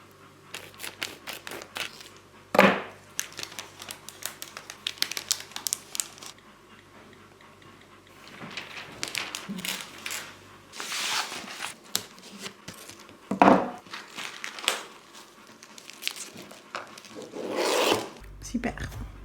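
Gift wrapping paper for a Christmas present crinkles, rustles and folds in bursts of crisp crackling, with sharp louder crunches at intervals, close up and alternating with quieter handling.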